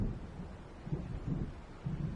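Low, distant thunder rumbles in slow swells under steady wind in an approaching storm in the video game Alan Wake, with no other sounds.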